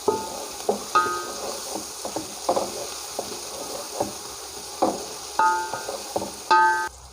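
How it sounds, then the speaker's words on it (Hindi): Ginger garlic paste stirred with a spoon in a frying pan, with a steady soft sizzle and a series of short metallic spoon scrapes and clinks against the pan, a few louder knocks near the end. "इसको चम्मच से हिलाएंगे अच्छी तरह।"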